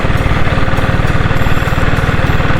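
A diesel Royal Enfield Bullet motorcycle thumps loudly while being ridden at speed after an engine restoration, a fast, regular pulsing beat holding a steady pitch throughout.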